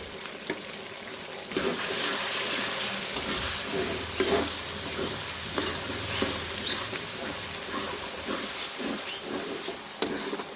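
Dry cumin and coriander spice mix frying in hot oil while stirred, a steady close sizzle and hiss with scraping stir strokes throughout, no voices.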